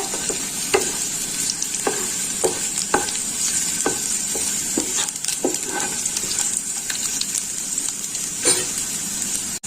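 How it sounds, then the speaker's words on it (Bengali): Garlic frying in oil in a pan: a continuous bright sizzle, close and steady, broken by repeated sharp taps and scrapes of stirring. "ভালো করে ভেজে নেব একটু লালচে করে রসুনটা"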